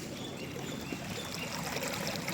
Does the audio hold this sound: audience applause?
no